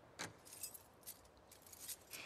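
Keys jangling in The Last of Us Part II, a faint, quiet metallic rattle of several short bright jingles scattered across a couple of seconds, with no talk over it.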